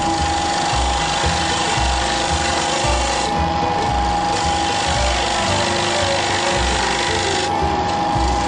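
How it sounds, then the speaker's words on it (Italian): A spindle gouge cuts the tenon on a wooden bowl turning on a lathe, giving a steady close scraping rasp with a constant motor hum and a faint rhythmic pulse throughout. "Con una sgorbia a profilare si prepara il tenone per la presa a mandrino."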